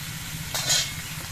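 Cucumber pieces fry in a pan, a soft steady sizzle with a brief hissing flare-up in the middle.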